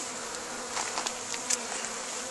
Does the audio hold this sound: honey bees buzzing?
yes